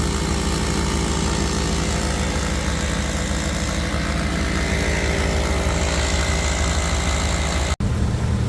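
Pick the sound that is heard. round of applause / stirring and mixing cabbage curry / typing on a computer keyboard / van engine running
van engine running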